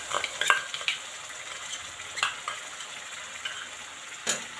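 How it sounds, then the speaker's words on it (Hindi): Spices for a jackfruit curry (red chilli, coriander, cumin, turmeric and garam masala powders) stirred and roasted in a pan, with a steady low sizzle broken by several sharp scrapes and clinks of a spoon against the metal, close and without talk. "मसाले को अच्छे से भूनेंगे।"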